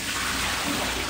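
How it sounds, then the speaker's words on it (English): Tap water runs steadily into a bowl during kitchen lunch prep, a close, continuous splashing rush with no talk. "I'm gonna add some new water in"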